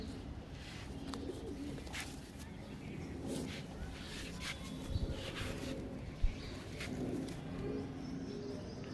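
Laldum and Kaldum pigeons coo softly in a crowded loft, a low steady murmur of calls with a few sharper clicks, while people talk nearby.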